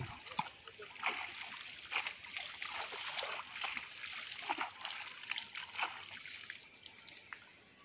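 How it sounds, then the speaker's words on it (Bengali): Water being splashed by hand during fishing, giving faint, irregular splashes and soft trickles spread over several seconds, with quiet voices now and then in the background. "একটু পানি ছিটা দেন।"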